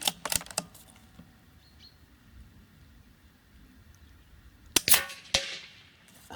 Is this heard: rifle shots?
yes